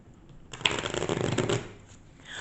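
Archangel oracle cards are shuffled close by in a quick riffling burst lasting about a second, with a softer settling rustle afterward and no voices.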